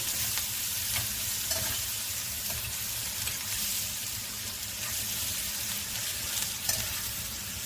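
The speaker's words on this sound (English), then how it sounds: "We fry our kapenta together with onions until the onions are translucent." Kapenta fish and onions frying together in a pan, a steady close sizzle broken by light stirring scrapes and occasional spatula taps, with no voices.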